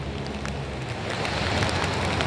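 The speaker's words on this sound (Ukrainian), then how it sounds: "Дощик у нас сьогодні." Steady rain pattering on a surface, a continuous wash of drops close by with no voices.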